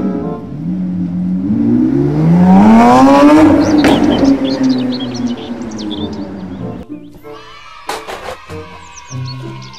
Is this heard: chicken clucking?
no